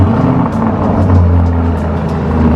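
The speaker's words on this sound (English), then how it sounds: "First cold start on the channel of the Lamborghini Urus." A Lamborghini Urus twin-turbo V8 on a cold start idles loudly and close by, a deep steady rumble with slight fluctuations in its throb.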